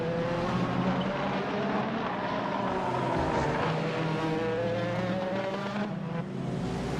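A race car engine in a racing video game set at a 24-hour Daytona event with hybrid and GT3 cars, with a rally-like tone: a loud, sustained droning whine that shifts pitch slowly, with no voices over it.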